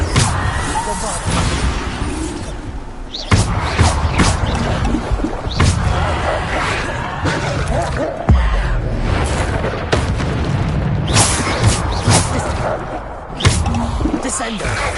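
Bombarda blasting spells go off in the Hogwarts Legacy video game, a series of loud booming bursts every few seconds over busy combat effects.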